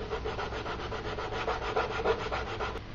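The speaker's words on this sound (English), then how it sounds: "So let's sand it out." Steady rubbing scrape of sandpaper worked back and forth over a cut foam helmet piece with a bevelled edge, close and continuous for the whole stretch with no talking.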